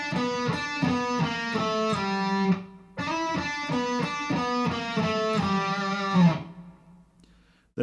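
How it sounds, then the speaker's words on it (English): Distorted electric guitar plays the Metallica "Seek and Destroy" riff, a choppy repeating run of notes sliding down the neck, heard twice through with no talking. "So that whole riff sounds like this."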